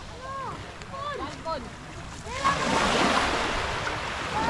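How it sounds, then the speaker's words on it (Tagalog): Seashore waves roll in near a boat dry dock, a soft surf hiss swelling louder in the second half, with a voice talking over the quieter opening. "Madidinig mo lang yung mga ng alon."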